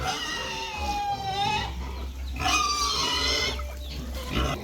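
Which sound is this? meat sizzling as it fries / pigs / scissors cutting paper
pigs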